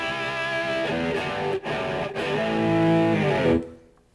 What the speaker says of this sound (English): This is just a straight, raw, British stack kind of sound with no effects on it at all.